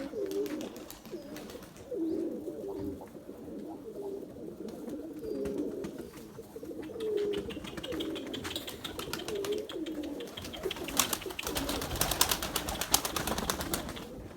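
Pigeons softly cooing in repeated low phrases outdoors, with a rising flutter of many wingbeats toward the end as the flock takes off.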